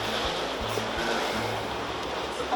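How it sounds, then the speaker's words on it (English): Waves wash on open water at New Bern, North Carolina, during rainy weather, a steady close-up rush of surf with gusty wind noise throughout and no talk. "Look at the waves."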